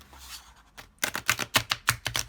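Cards are riffled and bridged in a quick shuffle: soft rustling, then a rapid series of crisp snapping flutters, close by.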